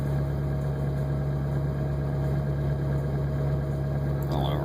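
A diesel engine idling steadily at a little over 1,000 RPM, with a continuous low hum and mechanical drone holding even throughout, close and alone, with a faint squeak near the end.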